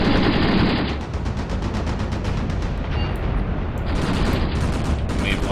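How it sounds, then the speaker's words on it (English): Machine gun fire in the Graviteam Tactics Afghanistan 1980 war game with Soviet mechanized guards, loud continuous bursts of rapid automatic gunfire filling the whole stretch, dense and harsh, with no pause. "He may very well be hit by our actual machine gun fire if we're not careful here."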